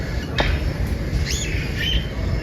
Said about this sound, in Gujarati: કોકોટેલ બર્ડ.